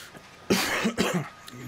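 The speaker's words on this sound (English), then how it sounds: "You must excuse the coughing." Two sharp, close coughs in quick succession from a person recovering from a cold, followed by a brief throaty rasp.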